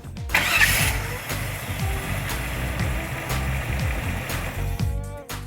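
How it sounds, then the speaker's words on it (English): A restored car engine cranks and catches, then settles into a rough, steady idle, close and fairly loud throughout. "I'm so excited to see this start."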